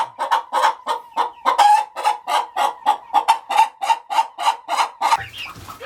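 Homestead chickens clucking in a fast, steady run of loud, evenly spaced calls close by, a crow-like cry mixed in, ending with a brief rustle.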